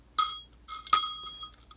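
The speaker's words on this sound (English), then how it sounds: "This is a single bell unit." Single-bell telephone ringer unit struck a few times: sharp metallic dings with bright ringing overtones, two strong strikes and a few lighter taps, decaying quickly, close and alone with no talk.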